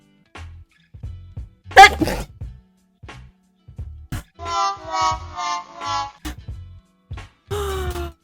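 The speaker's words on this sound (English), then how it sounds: "My sneeze, though." A young woman sneezes sharply once, close and loud, among quiet rustles and clicks, followed by a tonal whistling tone and further handling noise.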